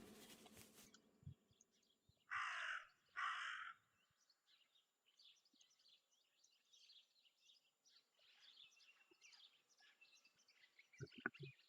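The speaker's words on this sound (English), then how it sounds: "That raven is making a big fuss." A raven in the video game Martha is Dead gives two loud, harsh caws in quick succession, followed by faint chirping birdsong in an otherwise quiet outdoor scene.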